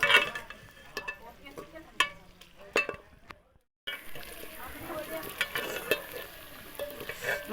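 Okra (bhindi) fries in a pan with oil in a village kitchen, a soft steady sizzle broken by sharp scraping clicks of stirring, briefly dropping to silence before the frying hiss resumes.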